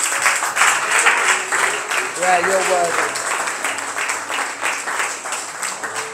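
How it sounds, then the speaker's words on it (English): A church congregation at a Sunday service claps together, a steady ripple of applause mixed with voices, with someone speaking briefly over it. "Go on, give the Lord a round of applause."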